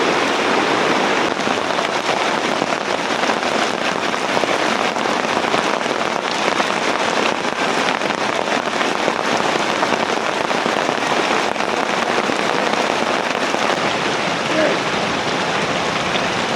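Heavy rain pours down steadily during a storm at a fishing spot by a pond, a loud, dense, unbroken hiss of drops that lasts throughout.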